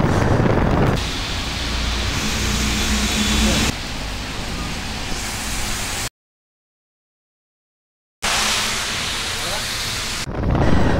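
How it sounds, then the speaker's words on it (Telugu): A sudden storm brings heavy rain and thunder, heard outdoors as a loud, continuous wash of rain with deep rumbling. The sound cuts out completely for about two seconds and then returns just as strong. "సడన్గా వెదర్ మొత్తం చేంజ్ అయిపోయింది, చిన్న చినుకులు కూడా పడుతున్నాయి"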